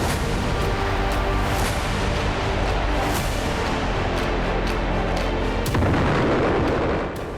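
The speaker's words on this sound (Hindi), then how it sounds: "आसमान से शहर पर बमों की बौछार कर रहा है" Missiles and bombs explode over a Ukrainian city under Russian attack, with a dense, continuous roar of booms and crackling blasts, loud and sustained, with a heavier burst near the end.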